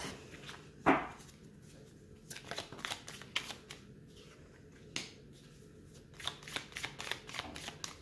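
Tarot cards are shuffled and drawn by hand, giving a sharp riffle followed by a run of soft, rapid flicks and taps up close, with no talk over them.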